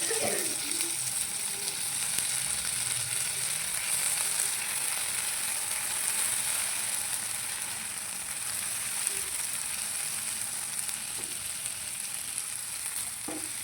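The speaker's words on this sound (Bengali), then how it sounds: "এটা একটু ভাজা হলে আমি বেগুনটা দিয়ে দেবো।" Tomato and chopped green chili sizzle in a pan with an even, continuous crackle and hiss, close and fairly loud, with a few small clinks of stirring.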